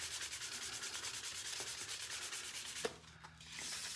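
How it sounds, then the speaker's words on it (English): Steady, rhythmic rubbing of a fine sanding block over a surface, close and soft, with a brief knock near the end before the scraping resumes. "I'm actually going to sand it before I do the next coat"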